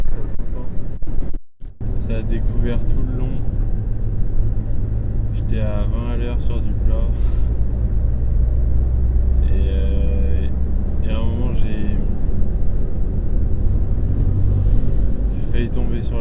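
Strong, violent wind roars without a break into a microphone out on a road, a loud buffeting rumble that nearly drowns out someone speaking French.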